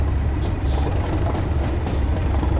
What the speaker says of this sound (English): I think I hear another train coming.